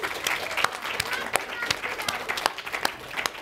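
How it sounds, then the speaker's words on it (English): A room of listeners at a children's book festival event applauds a young child, producing moderately quiet, continuous clapping with scattered sharper claps and faint talk underneath. "Can everyone give the young genius at the back of the room a round of applause?"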